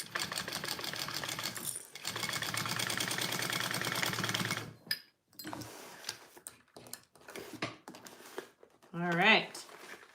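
A sewing machine stitches binding onto a bowler bag in a sustained buzzing run, then stops; afterward come scattered handling clicks and a voice speaking near the end.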